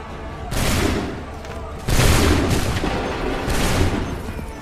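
Musket volleys boom out in Assassin's Creed III, three broad crashing bursts of massed fire, each rolling on for about a second and closely spaced, over an ongoing noisy battle ambience.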